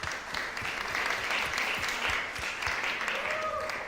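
Conference audience applause at the close of a two-day event, sustained clapping from a room full of people with some voices and cheers mixed in.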